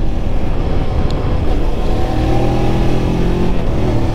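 Voge 525 DSX trail motorcycle engine downshifting while riding, a loud steady drone with shifting engine tones and wind rush, close and continuous throughout.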